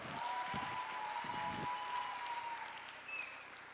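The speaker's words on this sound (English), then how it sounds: "give me a big round of applause." Faint audience applause at an interactive session, a soft diffuse patter of clapping with a few low thumps early on and a thin steady tone running underneath.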